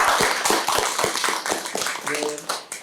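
Participants at a small Korean community volunteer gathering clapping, with distinct, fairly close hand claps at an uneven rhythm and a voice briefly heard near the end.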